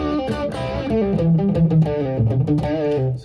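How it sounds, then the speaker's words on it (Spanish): An electric guitar plays through a Screamer distortion on a Line 6 HD500X, with a crunchy, overdriven tone and a busy run of picked notes and chords that carries on throughout. "se nota en la cuerda que suena la distorsión"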